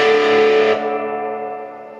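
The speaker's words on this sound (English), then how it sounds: "You can just hear the trail off of the reverb." An electric guitar on a BYOGuitars Flying V build, played through effects, rings out as a loud distorted chord. A TESI momentary kill switch then cuts it abruptly, leaving a reverb tail that fades slowly over more than a second with no talking.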